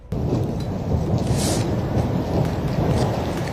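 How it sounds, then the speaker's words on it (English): Intense artillery pounding in wartime Mariupol, Ukraine, heard as a continuous deep, rumbling roar like distant thunder, rolling steadily for several seconds with faint higher crackles, and no talking over it. "This sounds like very intense artillery pounding."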